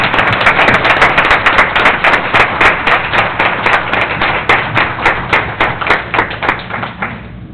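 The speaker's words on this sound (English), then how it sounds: "if everybody could give a round of applause for this fine young man." A crowd applauds a young man receiving an award at a city council meeting, dense steady clapping that thins into a sparser, rhythmic patter of individual claps before fading at the end.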